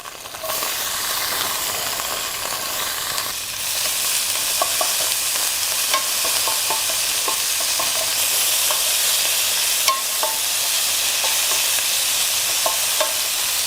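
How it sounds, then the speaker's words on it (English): Onions sauté in a pan on a Snow Peak GS-600 home and camp burner, giving a steady loud sizzle and hiss with scattered crackles and occasional stirring scrapes throughout, and no voices. "Next we're gonna saute our onions."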